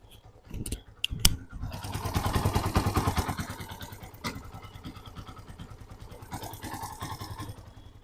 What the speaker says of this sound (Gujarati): અત્યારે ગાડી સ્ટાર્ટ છે